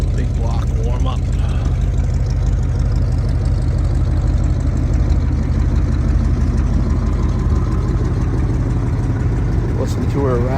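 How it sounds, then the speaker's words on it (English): An old big block engine warms up at idle, a loud, close, continuous rumble with a rattling throb, while someone talks briefly over it near the start and end. "The old big block warm up."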